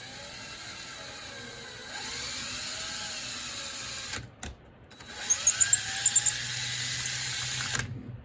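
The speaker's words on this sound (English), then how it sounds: "it's definitely easy to tap the holes in the drill" A power drill tapping holes whirs at close range, stopping and starting, then a burst of rapid rhythmic ratcheting bites as it works through metal.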